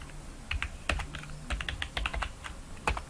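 Someone types on a computer keyboard while editing CSS code: irregular bursts of crisp key clicks, close and fairly quiet, with short pauses between keystrokes and no speech.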